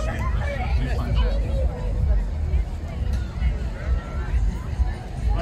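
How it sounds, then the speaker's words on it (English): Steady crowd hubbub at an outdoor Eid celebration in Lewsey Park, Luton: dense, continuous babble of many voices with a nearer voice speaking over it. "Big crowd building up."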